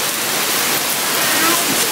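Steady, dense hiss of heavy rain pouring down, loud and continuous with no pauses, like a downpour close by.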